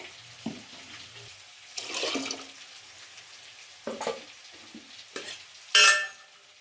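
Water splashes and pours in short bursts into a pot of chickpea curry, with stirring sounds between and a louder gush near the end.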